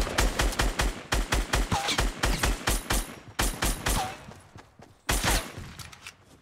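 Rapid gunfire in the video game Fortnite, with dense bursts of sharp repeated shots at close range. Brief pauses break up the volleys, including a gap near the five-second mark before the shooting resumes.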